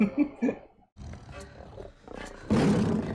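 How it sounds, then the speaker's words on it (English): A mountain lion roars in a tense film scene, a short growl followed by a loud, sustained roar toward the end, with the film's background sound underneath. "Yeah, that's a mountain lion, right?"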